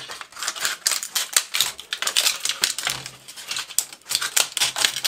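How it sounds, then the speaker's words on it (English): Foil wrapping crinkled and peeled off hardened CPM 154 stainless steel knife blades after heat treatment, making dense, close crackling and rustling in rapid bursts with brief pauses. "Let's go in and take them out of their foil wrapping and get them into the freeze."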